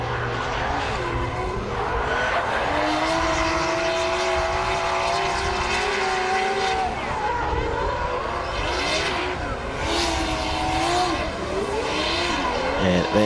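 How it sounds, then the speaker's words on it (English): A Hartley V12 engine in a Lexus RC F drift car screams at high revs during a qualifying run at Taupo Motorsport Park, wailing continuously with rising and falling pitch, tire skids and crowd noise beneath, loud and sustained throughout. "that noise coming out of that V12 Hartley, absolutely amazing"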